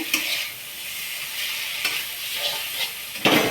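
Vegetables fry in hot oil with a continuous close sizzle, broken by occasional stirring scrapes and a louder burst of crackle near the end, no voices.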